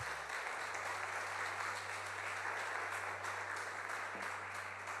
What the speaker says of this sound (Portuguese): uma salva de palmas para esse versículo aqui